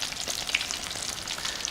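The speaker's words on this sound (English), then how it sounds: "You hear that nice sizzling noise." Crumbed olives sizzle and crackle steadily as they fry in hot oil, a close, continuous hiss with small pops.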